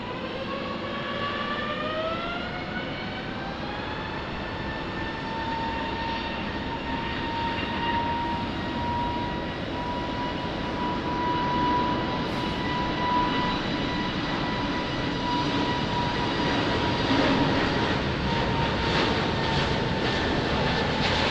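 An airliner takes off from runway 20 at Lisbon Airport, a sustained engine roar with rising whine tones that holds steady and swells slightly, heard from a distance with no voices.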